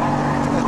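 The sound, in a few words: TVR Tuscan 2 sports car engine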